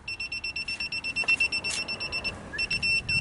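Rapid, evenly spaced high-pitched beeps repeat steadily, a reverse parking sensor warning on a 2004 Toyota Echo that briefly pauses before resuming.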